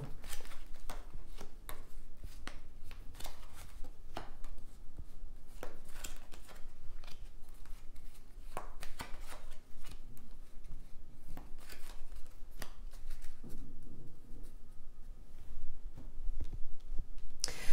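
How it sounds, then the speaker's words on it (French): Tarot cards are shuffled and handled close up, producing a run of sharp riffling snaps and soft slides at an irregular pace, with a brief softer rustle near the end and no speech. "Alors je vais tirer 6 cartes."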